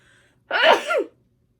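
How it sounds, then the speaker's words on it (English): One sharp sneeze, loud and close, with a quick breathy intake before the burst, heard alone in a quiet room. "I'm gonna sneeze."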